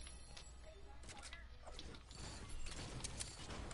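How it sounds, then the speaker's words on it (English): A bolt-action sniper rifle in a video game being cycled, giving a quiet run of mechanical clicks and ratcheting metal creaks over a low background hum. "Bolt action sniper rifle."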